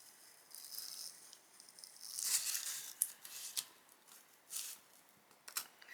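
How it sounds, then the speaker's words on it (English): Scissors snip through paper while cutting out a doll's shoe pattern, a series of close, crisp cuts and rustles coming in irregular bursts, quiet and alone with no talking. "just come in first and just cut through that top paper"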